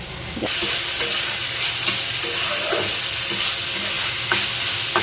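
A bread pocket filling frying in a pan with turmeric over rising heat, a continuous sizzle broken by several sharp stirring clicks, with no talking.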